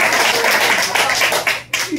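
Applause from attendees at a class reunion service team meeting, a brief burst of clapping from a small group, close and fairly loud, ending abruptly with a voice briefly audible.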